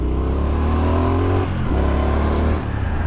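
A 2021 Triumph Street Scrambler's 900cc engine revs hard up close, a loud, steady throaty roar that dips briefly and climbs again, with no voices.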